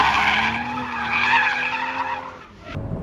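A Toyota GR Supra with a manual gearbox oversteers on a race track, its tires squealing in a loud, sustained skid over a steady engine drone before the sound abruptly cuts off.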